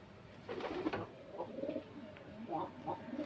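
Soft, low pigeon coos repeat in short throaty bursts, a few birds close by against quiet background hiss.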